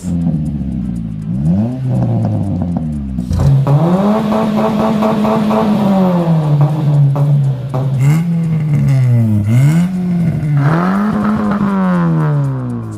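A car exhaust with a 106 silencer revs repeatedly with a deep, throaty tone, the engine pitch rising and falling through several loud, close blips.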